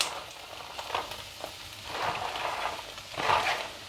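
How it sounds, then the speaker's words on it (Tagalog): Cabbage and carrots sautéing in a pan, a soft crackling sizzle that swells in a few louder waves as the vegetables are stirred, with no talking. "So, igigisa natin. Ilagay na natin."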